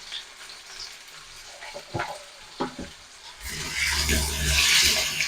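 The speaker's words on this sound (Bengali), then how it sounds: "আর আলুগুলো ভাজার সময় আমি অল্প একটু হলুদ দিয়ে দেবো," Potatoes fry with a little turmeric in hot oil in a kadai, first with a few scraping stirs, then a loud, steady sizzle that swells and holds to the end.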